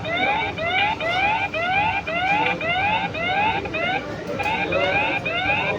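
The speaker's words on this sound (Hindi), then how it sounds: "15 सेकंड तक इस तरीके से सायरन बजता है कैमरे से" A 4G solar-powered security camera blares its built-in alarm siren: a loud, close electronic wail that repeats in rapid rising sweeps, steady and continuous throughout.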